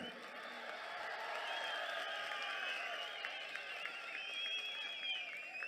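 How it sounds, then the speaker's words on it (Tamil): Distant crowd at a political rally in Tamil Nadu clapping steadily, faint and diffuse, with whistles and cheers rising above the clapping. "ஓங்கி கைதட்டுங்க."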